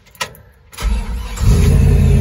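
A 1952 Chevrolet 3100 shortbed shop truck with an LS V8 and an aftermarket exhaust cranks briefly after a click, then fires up. It settles into a loud, deep, rumbling idle that grows fuller toward the end.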